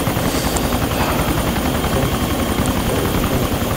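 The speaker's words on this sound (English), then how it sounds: "I see your helicopter." Helicopter in the video game ARMA 2, a loud continuous rotor thump and turbine roar filling the whole stretch, steady and close with no talk over it.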